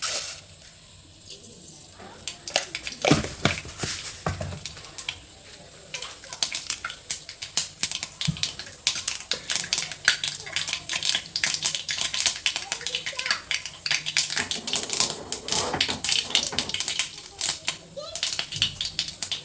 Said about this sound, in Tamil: கடுகு நல்லா பொடிஞ்சிருச்சு